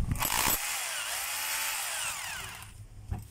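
A DeWalt D25032 rotary hammer drill runs at full speed for about two and a half seconds, a loud whining motor with a rising and falling pitch, then winds down and stops with a brief clunk.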